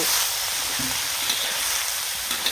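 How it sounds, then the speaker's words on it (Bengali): Small fish sizzle in a hot pan of oil, a continuous loud crackling hiss with faint pops throughout and no voices. "এটা আগে ভেজে ভেজে ভাজা করে নেব, সুন্দর করে ভাজা করে নেব।"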